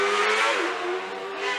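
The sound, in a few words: hill climb race car accelerating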